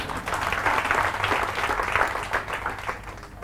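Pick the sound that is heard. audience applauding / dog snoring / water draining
audience applauding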